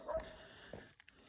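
A dog locked up outdoors in Italy, giving a few short, soft whimpering yips and a faint bark at a distance rather than loud barking, with quiet gaps between.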